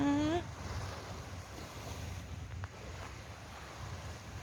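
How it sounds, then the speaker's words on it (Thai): Gentle sea waves washing onto the beach at Suan Son, Rayong, a calm steady surf hiss mixed with wind noise, preceded by a brief voice at the start. "ได้ยินเสียงคลื่นไหมคะ"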